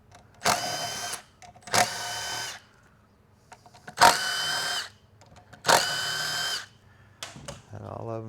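Power tool running bolts out of a 6L90E automatic transmission valve body: four separate bursts of whirring, each about a second long, with short pauses between them and a faint clink near the end.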